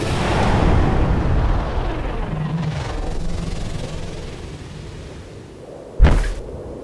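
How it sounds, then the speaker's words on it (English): A low rumbling roar fades down, then a sudden sharp blast bursts out and trails off into a brief hissing decay. "A terrible hissing noise followed the explosion, then came several smaller blasts."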